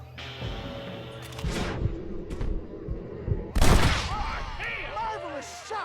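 Shootout gunfire in Red Dead Redemption, a few scattered loud gunshots with one heavy blast near the middle, amid background game sounds and shouting voices.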